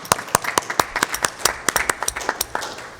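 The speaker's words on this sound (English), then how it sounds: "Let's applaud them" Sparse, distinct hand claps from a small banquet audience at a police chiefs' association awards event, a dozen or so sharp individual claps in loose irregular rhythm, fairly close, with no talking.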